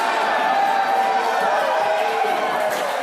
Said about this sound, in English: the crowd is losing their minds